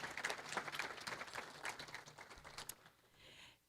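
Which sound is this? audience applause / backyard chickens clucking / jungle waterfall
audience applause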